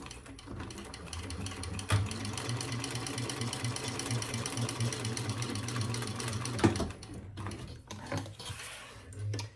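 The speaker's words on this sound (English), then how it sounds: "now we're just going to stitch across the bottom" A sewing machine runs steadily, stitching across the bottom of a bag, its needle chattering in a fast, even rhythm with a brief pause near the end; no one talks.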